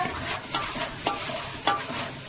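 Masala with coriander powder and turmeric is stirred in a pan, with brisk spatula strokes roughly twice a second over a soft, steady sizzle, heard close up with no voices.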